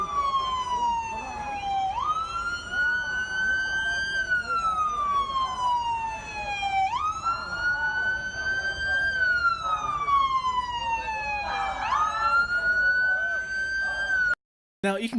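A wailing siren rises and falls in repeated slow sweeps, loud and close, with traffic rumble underneath, cutting off abruptly near the end.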